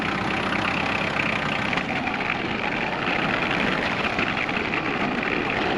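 A tractor engine runs steadily at a forest sawmill yard beside an off-grid cabin, a loud, close, continuous rumbling drone with no pauses.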